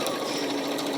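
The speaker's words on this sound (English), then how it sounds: "So we'll just do a couple stitches and then reverse stitch" A sewing machine stitches fabric for a box seam on advent calendar pockets, running forward and then reverse back-stitching. It gives a steady, close, continuous mechanical whir with no talk over it.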